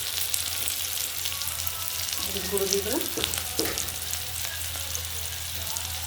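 Onions fry with whole garam masala in a pan, giving a steady sizzling hiss with a few stirring scrapes, close by, and a brief voice speaks briefly partway through.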